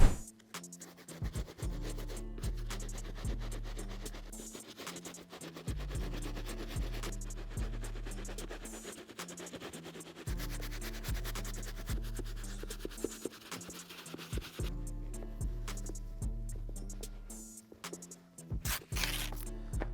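Soft-bristle brush scrubbing the white mesh and tongue of a Jordan 4 sneaker, a steady scratchy rubbing that runs under a prominent bed of rhythmic background music with deep bass notes.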